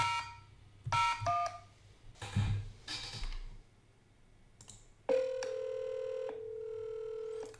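Telephone keypad tones dialing an extension on a SipPulse softswitch, a burst of short separate beeps followed by a long steady tone, fairly quiet with no talking.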